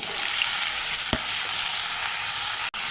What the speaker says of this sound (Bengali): এখন কেটে রাখা বেগুনগুলো ভেজে নেব